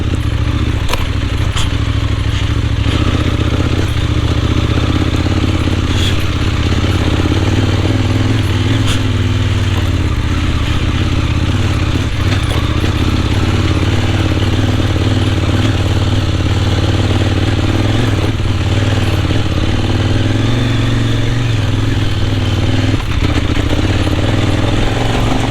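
Kove 800X Pro motorcycle carrying luggage on a mountain road in Tibetan Sichuan, its engine droning loud and steady close to the mic with rumbling wind and a few faint clattering ticks.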